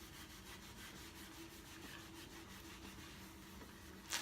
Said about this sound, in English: I'm going to scrub some of the areas that seem gummy.